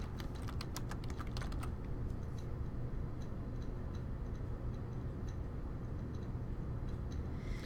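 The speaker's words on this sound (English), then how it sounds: "And we're going to type R2G." Computer keyboard typing while entering text into an Excel worksheet, a quick burst of clicky keystrokes at the start, then sparse faint taps over a steady background hiss.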